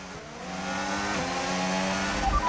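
A Formula 1 race car in the F1 25 video game at Abu Dhabi holds a steady, high engine drone, with a brief shift in pitch and a low thump near the end.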